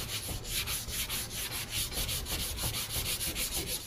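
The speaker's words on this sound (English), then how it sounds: "So I'm gonna sand this with 180, get it ready for some filler or some glazing putty." Auto body filler is sanded by hand with 180 grit sandpaper, giving rhythmic back-and-forth scratchy strokes, close and fairly quiet, repeating steadily with no voices.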